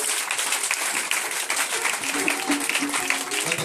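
A church congregation breaks into sustained, dense applause, a loud continuous wash of clapping with some cheering voices mixed in.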